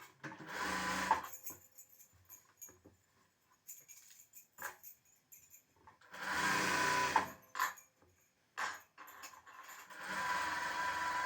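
A sewing machine stitches an extra fabric piece onto a blouse in three short bursts of rapid, whirring needle clatter, separated by quiet pauses filled with light handling of cloth.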